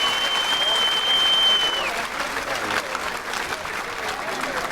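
Outdoor crowd applause at a Balıkesir liberation day celebration with mounted archery club members, steady and fairly loud, with a brief whistle-like tone early on and a murmur of voices beneath.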